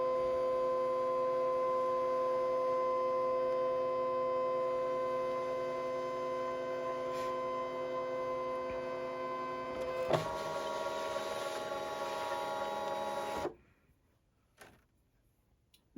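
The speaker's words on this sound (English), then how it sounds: "Now this is ready to begin the scan process." Brother Scan N Cut machine scanning a loaded cutting mat, a steady motorized whine with a tonal hum that runs evenly, then shifts pitch near the end and stops abruptly, followed by near silence.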